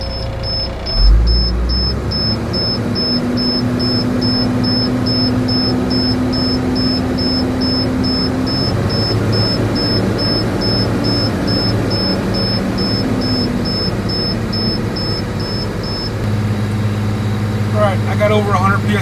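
A heavy truck's engine revs and holds a steady, loud drone while its compressor fills the air brake tanks during an in-cab brake check, with a rapid high warning beep repeating over it for most of the time.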